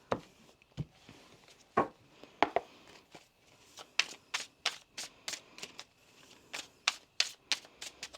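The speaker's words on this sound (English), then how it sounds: "One more shuffle, please" A tarot deck is shuffled by hand in a quiet room, giving a string of crisp, irregular card flicks and taps, close and fairly soft, with no talk.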